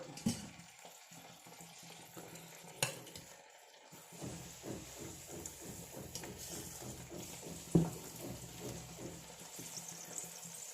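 Appam batter cooks on a large, hot dosa griddle, giving a soft, steady sizzle with scraping and light clatter throughout.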